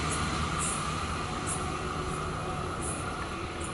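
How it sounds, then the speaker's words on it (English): Amtrak Surfliner passenger train pulling out of Oceanside station behind a Charger locomotive, a steady, constant rumble and hum of rolling stock heard from trackside without pause. "It's a Surfliner, headed out of Oceanside for San Diego behind Charger number 2120."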